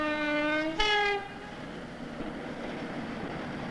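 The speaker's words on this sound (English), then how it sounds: "This is the French TGV, the fastest train on Earth" A French TGV high-speed train sounds a loud horn with two sustained blasts, the pitch stepping up for the second, then fades into a steady rushing rumble of the train passing.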